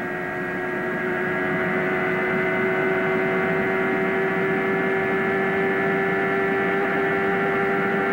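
Onboard sound of a 1992 IndyCar at the Marlboro 500 oval race, a loud, steady high-pitched engine drone with strong tonal harmonics held continuously at high revs, no talking.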